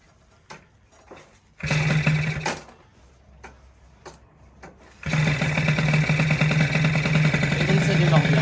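A Peugeot 103 SPX moped fitted with a PHBG 19 carburettor fires briefly and dies. Scattered clicks follow, then a second start leaves the engine buzzing steadily and loudly up close.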